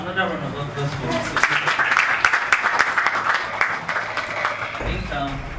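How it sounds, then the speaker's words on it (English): Graduation audience applauds at a celebration, a steady wash of clapping that builds and holds for several seconds, with a voice talking over it at the start and end. "Please, another round of applause for me."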